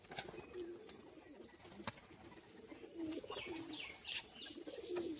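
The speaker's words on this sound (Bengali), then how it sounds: "সাদা চোখো নর পায়রাটা দেখুন" Pigeons at a pigeon sale give soft, low cooing calls several times over a quiet background, with a few faint chirps and light rustles nearby.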